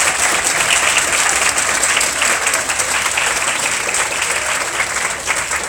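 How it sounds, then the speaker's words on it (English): An audience applauds panelists at a talk, sustained dense clapping from a room full of people, loud and steady throughout before tapering slightly at the end. "So I want to give a round of applause to our panelists."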